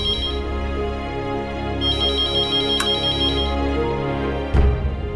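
A phone ringtone rings at night inside a home, a loud, steady electronic melody that repeats for the whole stretch with no voices over it.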